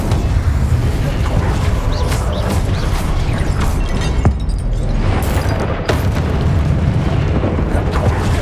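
A fire spell is cast in Hogwarts Legacy, a loud sustained roaring burst with crackling bursts and booms throughout, dense and close with no clear pauses.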